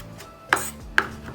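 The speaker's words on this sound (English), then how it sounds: "I'm using coriander leaves and I'm rough chopping it to use it as my" A knife rough-chops fresh coriander leaves on a cutting board for an omelette garnish. Two crisp, close chopping strikes land about half a second apart over a quiet kitchen background, with no talking.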